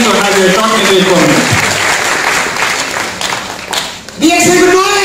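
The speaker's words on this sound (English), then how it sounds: "A big round of applause for Mr. Nemichandran" An event audience breaks into loud, sustained applause to welcome a speaker. The clapping runs through most of the stretch, and someone speaks over its start and again as it dies away.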